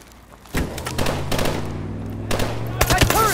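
An armored turret's heavy machine gun fires in Call of Duty: Advanced Warfare, sustained rapid bursts, loud and close, with soldiers shouting over the din.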